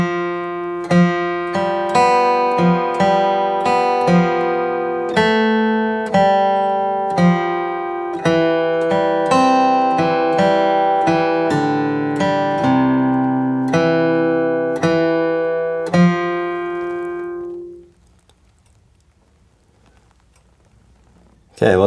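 A crosspicked guitar plays a steady picked melody of evenly spaced ringing notes from Banks of the Ohio, alone and clear, before the last note fades into silence.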